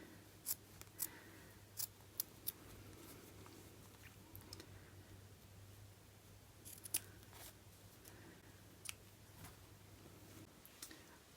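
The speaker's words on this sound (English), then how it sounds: "I've trimmed my seam allowance" Scissors snip through the trimmed fabric seam allowance of a garment facing, a handful of sharp, close cuts scattered over a quiet room with a steady low hum underneath.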